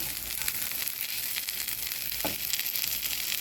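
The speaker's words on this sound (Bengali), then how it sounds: "এখন কিশমিশগুলো ভেজে নেব" Raisins fry in hot ghee with a continuous close sizzle, joined by a brief stir or scrape partway through.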